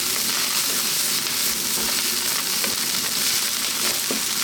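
Egg fried rice, takeaway restaurant style, mixed and tossed in a hot pan, giving a loud, constant, close-up sizzle with faint stirring scrapes underneath.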